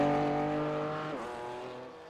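A race car in a racing video game screams down the long back straight of the Nürburgring Nordschleife, its engine note high and steady before dropping sharply at a gear change, then continuing to drone slightly quieter.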